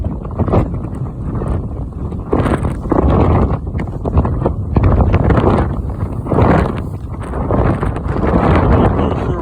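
Gusty wind buffets the microphone beside Lake Michigan on a winter trail, a loud, continuous low roar that swells and eases in waves throughout, with no other clear sounds.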